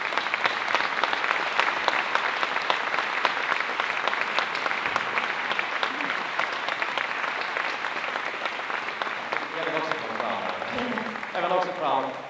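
Sustained audience applause from a crowd at a 2022 old-time dance (gammeldans) event, steady dense clapping throughout with some voices and music-like tones emerging near the end.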